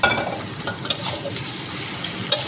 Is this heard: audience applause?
no